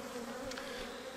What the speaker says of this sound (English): The bees are building a little bit of comb hanging off the top of that inner cover